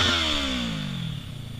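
A motorcycle engine with the throttle pinned while the rider stands for a wheelie, a loud harmonic whine that starts high and slides down in pitch over about a second before settling to a lower steady idle.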